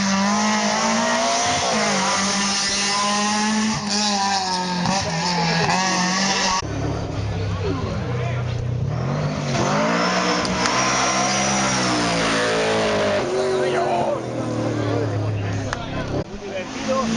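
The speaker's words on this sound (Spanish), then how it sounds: "Está a punto de venir el M3S." An M3S race car at the Castell de Guadalest hill climb rushes past with loud, continuous engine roar, revs climbing and dropping through gear changes across the run, close to the microphone, while spectators talk.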